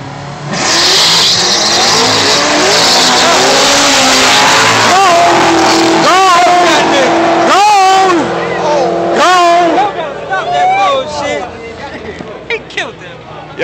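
A Mitsubishi Eclipse and a Ford Mustang drag racing in North Carolina, engines roaring loud and close with rising revs through several gear shifts, tires squealing, then fading away, with people talking over it.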